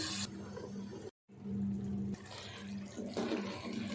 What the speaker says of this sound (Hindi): 1 गिलास में पानी डाल रही हूँ ताकि अच्छे से फलियाँ भी और आलू भी गल जाएं